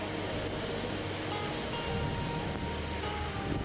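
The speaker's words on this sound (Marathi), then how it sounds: "जोराच्या पावसाला लागणारी सगळी विशेषणं इथं तोकडी वाटतात" Heavy monsoon rain in Kitwade village, Kolhapur district, pours as a steady, dense hiss that fills the whole stretch without pause, with no voices present.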